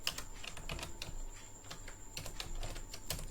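Keys clatter on a computer keyboard while C++ code is entered, a quick irregular run of close, crisp clicks with short pauses over a faint steady hum.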